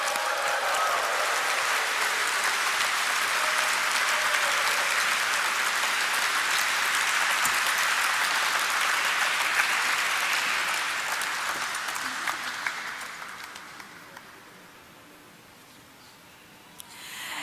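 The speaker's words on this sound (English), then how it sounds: "let us have a resounding of claps to mark the celebrations that" An audience at the listing ceremony of ideaForge Technology Limited breaks into sustained, dense applause that holds steady for about twelve seconds, then thins and fades to scattered claps.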